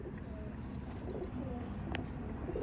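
An Andhra Madrasi pigeon coos softly in a loft, a low throaty call over a steady background hum, faint and fairly distant with no speech.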